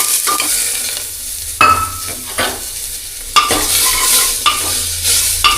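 Onions and tomatoes sizzle in oil inside a pressure cooker. A spoon scrapes and stirs them in repeated bursts, with the hiss of frying running steadily underneath, loud and close.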